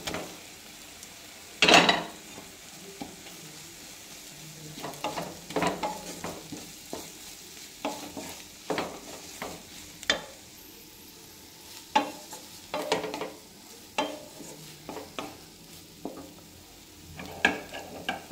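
Grated paneer being tipped into a pan of cooked-down spices and stirred for paneer bhurji, with an opening clatter followed by repeated scraping strokes and utensil knocks over a light sizzle, close by.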